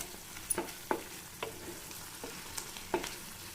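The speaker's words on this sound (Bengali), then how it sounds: "আমার 7 থেকে 8 মিনিট নাড়াচাড়া করার পরে এখনও কিন্তু সাইড দিয়ে তেল ছাড়েনি।" Momo chutney sauce bubbles quietly in oil while a spoon stirs it, giving a handful of soft, separate scrapes and taps over a faint, low sizzle.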